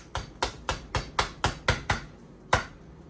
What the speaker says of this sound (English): stick it down where I want it to go and then hammer it down into it